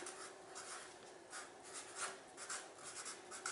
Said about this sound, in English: I'm going to write Memorial Day.